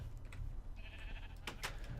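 Sheep bleat in the video game Minecraft, with a couple of brief cries rising over a steady low hum of game ambience.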